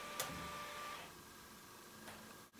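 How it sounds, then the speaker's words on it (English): Scanner mechanism of a DIY pick-and-place robot built from a scanner, driving with a faint steady motor whine and a couple of soft clicks, quiet and close with no speech. "The robot is built from a scanner, the part that holds the boards, and drives like this"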